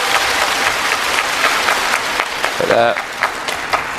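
Spectators clap at a China Smash table tennis match, brisk scattered applause over crowd noise, with a brief spoken word and a short tonal sound partway through.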